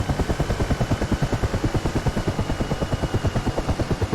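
Mi-8 helicopter rotor in a flight simulator game, a loud, even, rapid thudding of blades that beats steadily throughout with no voices over it.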